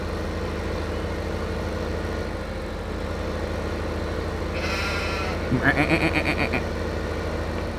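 A few wavering sheep-like bleats rise briefly over a constant low engine hum, the bleating lasting only about a second, in the video game Farming Simulator 15.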